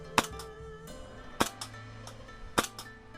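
An Elite Force 1911 airsoft pistol fires BBs at metal siding, giving three sharp, evenly spaced snaps about a second apart, each with a faint metallic tick, close by in a quiet outdoor setting.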